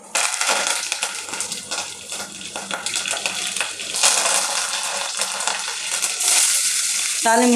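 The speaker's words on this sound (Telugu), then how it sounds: "ఈ ఆయిల్ అయితే కాలింది, దీంట్లో తాళం గింజలు అయితే వేసుకున్నాం" Tempering seeds crackle and pop in hot oil, giving a dense, loud, continuous sizzle with bursts of popping throughout, close by.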